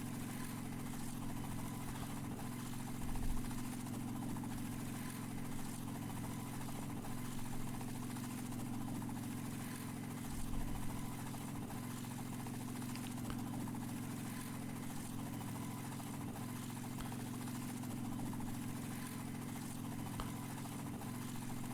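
A helicopter flying in the video game DayZ on the Namalsk map, a constant low rotor and engine drone held steady throughout with a few faint bumps, even and unbroken.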